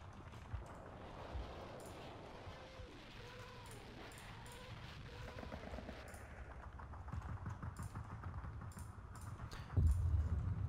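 Distant rattling bursts of machine gun fire in the wartime strategy game Steel Division 2, repeated over a low battle rumble, with heavier nearby shots near the end.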